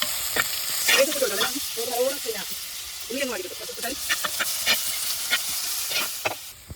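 Onion, green chilli and ginger sautéing in a pan, a steady broadband frying hiss with scraping stir strokes throughout, while someone talks over it at intervals.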